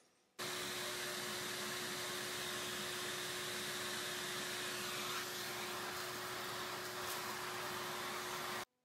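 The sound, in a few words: vacuum cleaner cleaning a desk top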